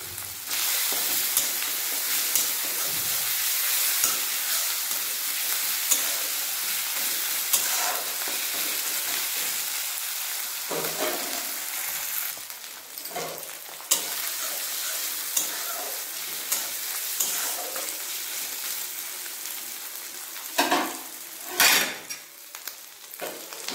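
Chopped onion and ginger-garlic paste frying in a pan, giving a steady close hiss and sizzle broken by scraping stirring strokes, with no talking.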